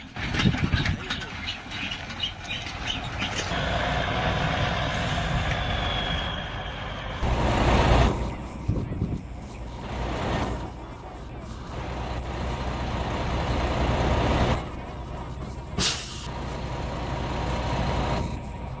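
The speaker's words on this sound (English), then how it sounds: "This is a real-life mud runner navigating narrow mountain passes in Nicaragua while fully loaded." A fully loaded truck crawling along a narrow muddy mountain pass in Nicaragua, its engine a loud, continuous low rumble with hissing and clanking surges, as if from close by. A voice talks over parts of it.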